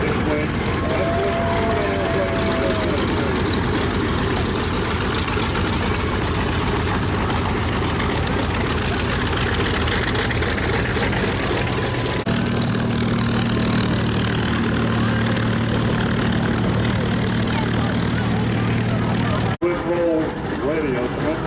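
Low, steady rumble of idling radial piston engines from P-51 Mustang and Corsair warbirds at an air show, continuous and fairly close, with a voice speaking over it.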